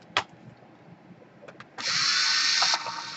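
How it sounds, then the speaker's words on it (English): A few small clicks, then a steady high whir of a powered screwdriver running for about a second as screws are backed out of a Toshiba Satellite L775 laptop, close and fairly loud. "So let's unscrew the screws."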